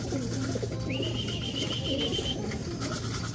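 Racing pigeons in basketing crates at a race basketing give low, rolling coos amid a busy, close background of shuffling and murmuring ambient noise, with a thin whistle-like tone passing briefly.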